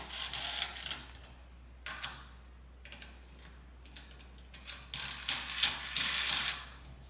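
Mounting parts are screwed onto a Pro Stringer racket stringing machine, with close scraping, ratcheting clicks and metallic rubbing in bursts, quiet and without talk.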